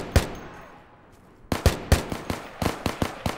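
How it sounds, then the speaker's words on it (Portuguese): Gunfire in the Minecraft Crafting Dead mod: one sharp shot, a pause, then a rapid string of loud, close bursts in an uneven rhythm. "Tô dando tiro, tô dando tiro."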